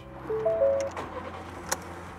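A car being started to power a dash camera, with a few brief tonal chimes and a soft click followed by a low, quiet hum.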